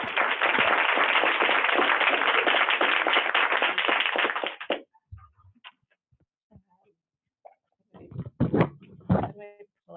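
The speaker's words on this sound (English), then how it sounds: "Let's give them a round of applause." Dense audience applause fills the first half at steady volume, then cuts off, followed by quieter scattered knocks and taps with brief voices.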